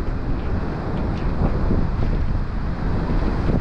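Sea waves churn and crash along the Paphos seafront in a gale, a continuous loud roar of surf heavily mixed with wind buffeting the microphone throughout.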